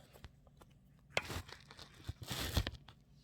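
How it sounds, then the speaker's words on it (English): Scissors cutting a marked circle out of hat-making material, a few short snipping and crinkling bursts at a close distance with quiet gaps between, no talk. "So I'm going to bring this whole thing around and cut it out."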